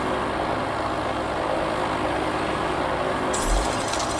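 A steady droning airplane engine in the game Free Fire hums at low level throughout, with a short thump near the end and no talking.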